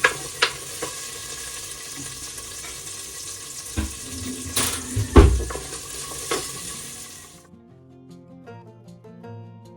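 Green chillies frying in a pan for mutton chops, a steady close sizzle with metal stirring knocks and a loud scrape near the middle, easing off into quieter crackles toward the end.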